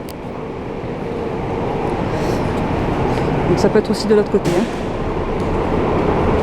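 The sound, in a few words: metro train arriving at Hatchobori station, Tokyo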